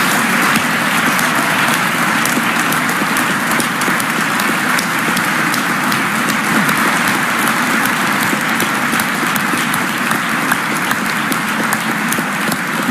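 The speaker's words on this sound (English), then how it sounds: "I want us to give a big round of applause to all of the members of the band" Sustained applause from a large audience at a state address rings out for the band, a thick, even wash of clapping lasting the full stretch with scattered cheers and no break.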